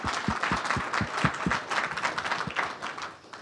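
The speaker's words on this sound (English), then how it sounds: "yeah, good, let's clap." An audience claps at an education event in Kanawha County, with sharp individual claps standing out over a dense, steady round of applause that fades toward the end.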